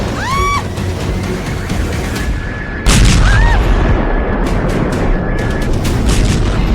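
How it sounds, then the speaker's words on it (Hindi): Large explosions in Venezuela: a sudden heavy blast lands partway through, followed by sustained loud booming rumble, preceded by distant ambient noise with faint tonal whistles. "वेनेजुएला में हुए एक के बाद एक 7 जगहों पर बड़े धमाके।"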